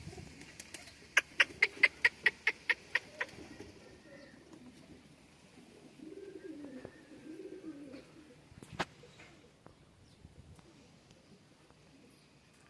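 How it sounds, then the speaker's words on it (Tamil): Pigeons in a loft give soft, low cooing phrases in the middle of the stretch, after a quick run of sharp, evenly spaced clicks near the start, with faint background noise throughout. "நம்ம புறாக்கள் எல்லாமே வந்து ரொம்பவே நல்லா இருக்குது"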